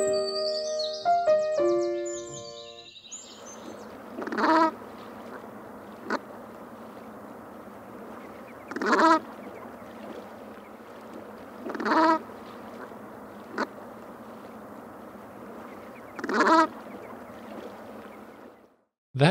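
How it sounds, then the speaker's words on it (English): A Brant goose gives four spaced bouts of its guttural, earthy honking call, each a short rough burst a few seconds apart, clear and fairly close against a quiet background after a brief electronic jingle. "That was the guttural, earthy call of the Brant."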